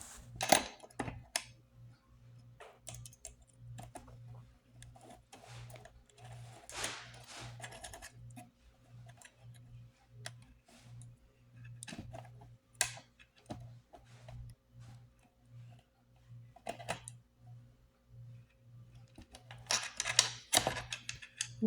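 Extruder motor being screwed onto an Ender 3 V2 3D printer, scattered small clicks and metallic taps from screws and tools over a faint steady hum, quiet and close.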